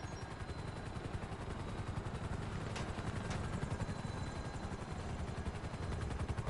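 Helicopters in a video game with rapid rotor chopping and gunfire-like bursts, a dense continuous rumble mixed under game noise at a fairly low level, no talk.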